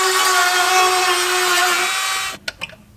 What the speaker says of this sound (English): grab a sanding blade for that thing, smooth up some of these edges here